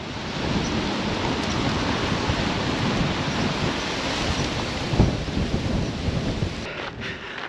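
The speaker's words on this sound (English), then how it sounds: "I had to give up on the hat because it's far too windy up here." Strong wind roars across an exposed hilltop near Pizarra, outside Malaga, a continuous loud rushing buffet with a few sharper gusts and no talking.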